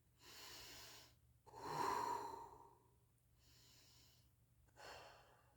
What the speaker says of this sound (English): I'm going to take a second, get some breath